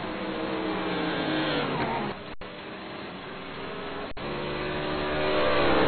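GT Masters 2012 race cars crossing the finish line, their engines roaring in a continuous loud blur that dips briefly midway and swells again toward the end, heard through a band-limited broadcast feed.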